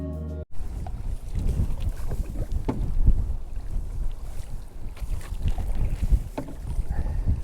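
Strong headwind rolls over a river on a multi-day canoe loop, with steady microphone buffeting and water sounds around the canoe, loud and continuous after a brief cut at the start, with no talking.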